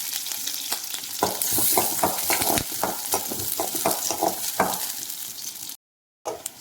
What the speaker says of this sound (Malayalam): ഒരു ചീനച്ചട്ടി ചെറുത് അലുമിനിയത്തിൻ്റെ അടുപ്പത്ത് വെച്ചിട്ടുണ്ട്. എന്നിട്ട് നമുക്ക് ഈ വെളുത്തുള്ളിയെ വറുത്തെടുക്കാം.